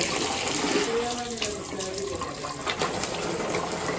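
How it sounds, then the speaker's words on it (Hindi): Tap water runs steadily over pieces of chicken being washed in a basket for a village-style chicken karahi, a continuous splashing stream close by with a voice speaking briefly over it. "इस टोकरे को पानी बहाओ।"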